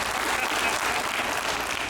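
Church congregation applause after a sermon point, a thick continuous roar of many hands clapping at steady volume with no break.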